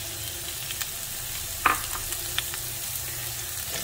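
Chopped carrot, capsicum, corn and mushroom frying over high flame in a pan while making Maggi noodles, a steady soft sizzle with a few brief clatters of stirring, alone without talk.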